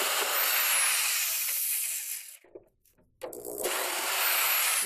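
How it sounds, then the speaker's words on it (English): A cordless drill fitted with a T25 bit whirs steadily, backing screws out of a first-generation Segway platform, then cuts out briefly before spinning up again close by. "I got my drill here, and I got a T25 head"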